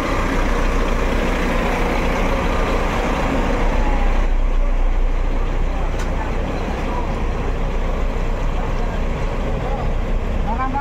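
Idling bus engine at a terminal before departure, a steady loud rumble and hum running throughout with mechanical noise, the tone shifting slightly partway through.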